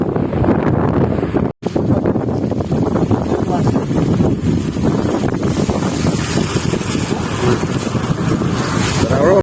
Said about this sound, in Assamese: বতাহ ঠাণ্ডা বতাহ হয়